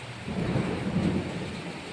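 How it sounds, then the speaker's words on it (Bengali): Low rumbling thunder rolls beneath a steady wash of heavy rain, no voices present. "প্রচণ্ড বিদ্যুৎ চমকাচ্ছে প্রচণ্ড বৃষ্টি হচ্ছে বাইরে"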